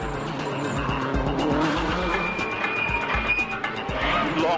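Rally car at the Monte Carlo Rally driving on ice on smooth tyres, engine revving loudly with whining pitch changes and some skidding, close and continuous.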